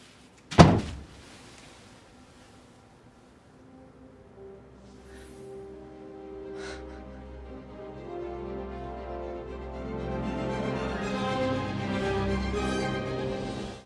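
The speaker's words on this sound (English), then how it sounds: "can you shut the door?" A door shuts with a single sharp, solid thunk near the start, then a quiet room tone gives way to a swelling sustained musical drone.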